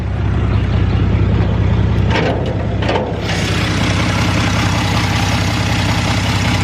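A 2.8 V6 engine in an S10 Blazer running rough, a loud, close, low rumbling idle with a brief surge and a couple of uneven bursts, with no talking.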